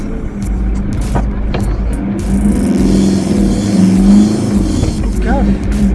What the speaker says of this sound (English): You can really hear the engine bellowing as you're trying to move away.